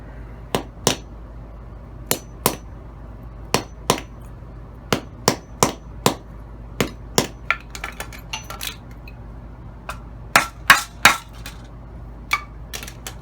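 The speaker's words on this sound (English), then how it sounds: "I might just hit it with the hammer and kind of loosen it up first." Sharp metallic taps of a hammer striking weighted silver, about two dozen irregular blows, some in quick pairs, ringing brightly against a quiet background.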